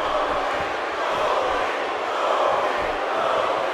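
A wrestling arena crowd in WWE 2K18 roars as a continuous, fairly loud wash of cheering voices that swells slightly without pausing.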